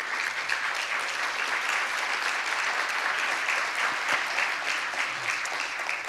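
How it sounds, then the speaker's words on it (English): An audience at a celebration-of-life gathering applauds steadily, dense and continuous clapping at moderate volume throughout. "This man needs a round of applause on his own"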